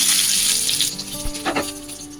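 Whole cumin, green and black cardamom, cinnamon and cloves hitting hot oil for a Bengali prawn curry, a bright burst of sizzling that fades over two seconds, with a faint clink.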